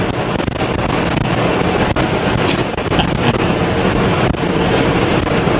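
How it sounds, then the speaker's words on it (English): Strong wind roars loudly and continuously, buffeting the microphone with a dense rushing noise that never lets up. "It was so windy."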